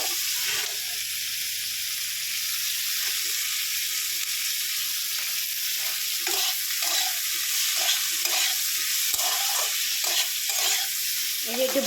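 Mutton spice mixture with salt frying and being stirred in a pan, a steady close sizzle with repeated rhythmic scraping strokes throughout, no talking.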